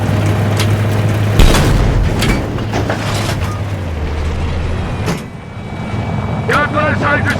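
Hydra 70 rockets fired from a helicopter in a combat game, with heavy booming launches and whooshes over a droning rotor and engine rumble, while voices talk over the action.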